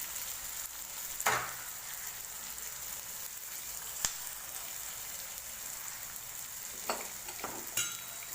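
Chopped tomatoes fry in a hot pan for a Telugu-style pithala fry, giving a steady close sizzle with a few faint clinks of stirring.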